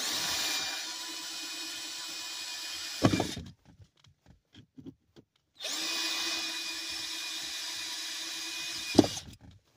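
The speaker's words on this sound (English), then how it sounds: "Not as easy as I thought to drill through." A power drill whines steadily for a few seconds drilling through a Buick Lucerne car panel, stops, then runs again with a similar loud, continuous buzz and a sharp bite at the end.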